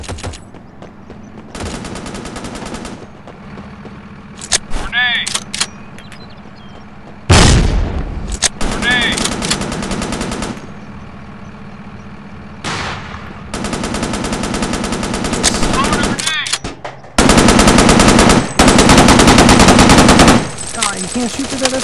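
Heavy automatic gunfire and booming shots in a first-person shooter video game, loud sustained bursts broken by short pauses over about twenty seconds, with brief gaps between volleys.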